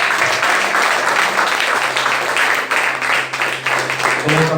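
A church congregation applauds during a sermon, with loud, sustained clapping that fills the room from start to finish, while a voice and low organ or keyboard tones carry on underneath.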